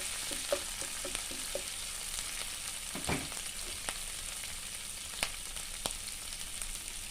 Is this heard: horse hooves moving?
no